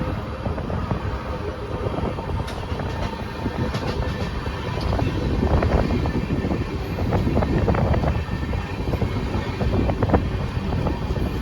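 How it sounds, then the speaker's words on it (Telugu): A passing train hauled by a WAP-7 electric locomotive, probably a Jan Shatabdi, near Nellore station, heard as a steady loud rumble and clatter of wagons with wind buffeting, continuous for the whole stretch. "వ్యాప్ 7 లోకోమోటివ్ అయితే పుల్ చేస్తుంది."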